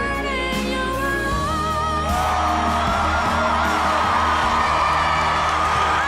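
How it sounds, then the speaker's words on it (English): A concert crowd goes wild during a live performance, with loud whoops and yells rising over sustained singing and music that carries on throughout. "Crowd is going nuts."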